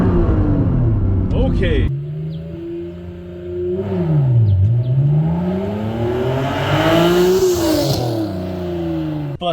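A Honda NSX engine revving up for a launch, rising and falling in pitch through several revs with a deep rumble, close and loud, while people react with brief exclamations.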